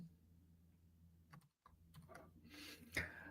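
Quick, light keystrokes from a computer keyboard during a coding session, a loose run of soft clicks with a brief pause midway, ending in a sharper tap, close and fairly quiet.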